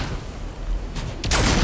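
A grenade blows up in a video game featuring dinosaurs and drones: two loud, close blasts of rough noise, a short one and then a longer, heavier one that swells and lingers.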